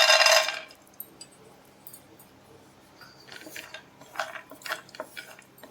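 Peanuts dropped into a pan of hot oil with a bright rattling burst, then scattered metallic scrapes and clinks as a spoon stirs them over a medium flame, faint and close.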